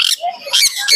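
A caged exotic pet bird, a young black cap under three months old, calls at a pet market in short, close bursts of harsh chirping with brief gaps.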